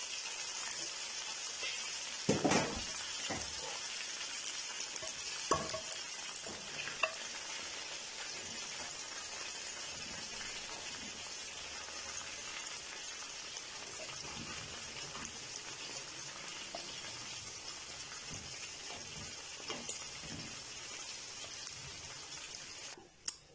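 Chicken pieces fry in oil for a Kashmiri chicken masala, a steady dense crackling sizzle like light rain throughout, with a few louder pops and stirring clinks early on.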